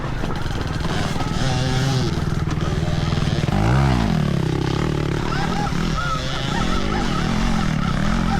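An 80HP Stark Varg electric motocross bike being ridden, a continuous whining motor tone that rises and falls in pitch with throttle, heard close with steady background noise and a loud swell midway.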